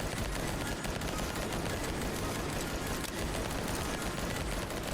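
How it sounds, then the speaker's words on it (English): Rapid automatic gunfire in a roguelike video game, a constant dense stream of bullet shots at even loudness with no pause, fairly quiet and heard without talk. "We fire lots of bullets."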